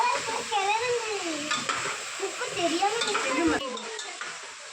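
Chicken biryani masala frying in a pot while being stirred over and over, a steady hiss broken by scraping strokes, with a voice talking throughout.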